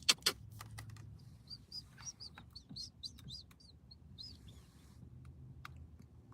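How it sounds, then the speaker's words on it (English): Small birds chirp and tweet repeatedly around a parked car outdoors, quick high calls scattered through the clip over a soft background rumble, with a couple of sharp taps at the start. "All the birds are coming over to my car."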